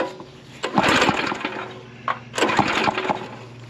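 A Predator small engine being cranked with the choke on, two bursts of rough mechanical clatter and pulling noise about a second apart, close and fairly loud, without catching into a steady run.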